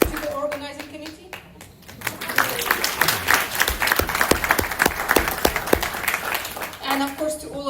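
Conference audience applause in a hall: a voice speaks first, then many hands clap in a busy, crisp burst that holds for several seconds before fading back under renewed speech.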